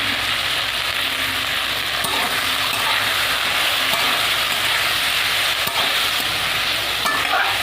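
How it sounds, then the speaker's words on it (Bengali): Steady, loud sizzling of okra frying in a hot pan, continuous throughout with occasional faint clinks of stirring. "আমি ভেন্ডিটা একটু ভাজা ভাজা করে নিয়েছি।"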